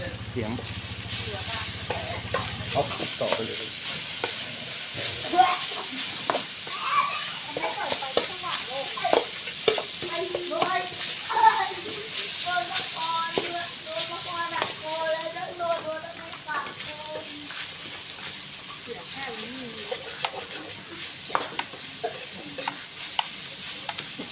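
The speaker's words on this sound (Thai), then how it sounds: "คั่วพริกไปก่อนครับ เอาหนูที่เราลวนไว้ลงครับ" Chilies and rat meat stir-fried in a pan for spicy pad kaprao, a continuous sizzle with frequent scraping and clanking of the spatula, close and steady, while someone talks over it at times.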